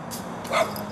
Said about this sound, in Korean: 암컷 역시 반응하듯 짖기 시작하더니